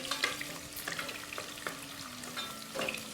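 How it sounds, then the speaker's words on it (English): Chopped onions sauté in hot oil in a pan, giving a steady crackling sizzle with soft stirring scrapes and occasional sharper pops throughout. "So we're just gonna saute this for about a minute"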